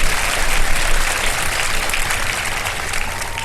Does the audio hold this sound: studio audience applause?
yes